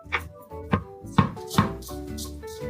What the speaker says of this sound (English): Cut the carrot into thin strips.